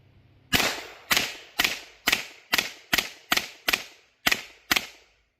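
A B&T SPC9 pistol-caliber carbine fires about ten sharp, evenly spaced shots over five seconds, each a bright crack with a short decaying tail, loud and close with no voices.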